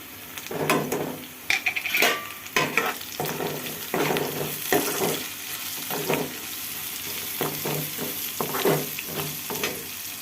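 Tempering frying in oil in a pan with salt and turmeric added, a steady sizzle under repeated close spoon stirs and scrapes against the pan, fairly loud throughout.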